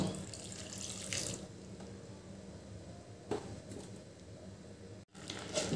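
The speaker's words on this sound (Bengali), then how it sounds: "এবার দিয়ে দিলাম একটু জল।" Water is poured into mashed red lentils in a cooking pot for masoor dal, a faint close splashing and trickling with soft bursts and a brief cut near the end.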